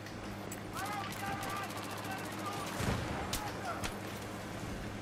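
Rapid automatic gunfire from Battlefield 3 rattles in bursts behind a player's talking, with one heavier blast near the middle, set against a dense layer of battle noise.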